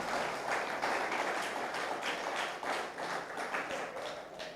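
A church congregation claps together in steady, fast rhythm during a lively worship service, the sound dense and sustained throughout, with faint voices mixed underneath.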